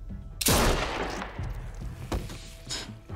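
Gunshots in the game The Walking Dead: A New Frontier, one sharp loud blast followed by a decaying echo and a couple of further sharp reports.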